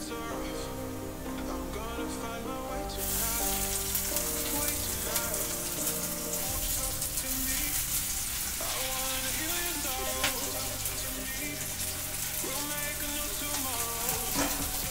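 Browned onions frying with capsicum just added in a pan, a steady sizzle running throughout with music playing over it.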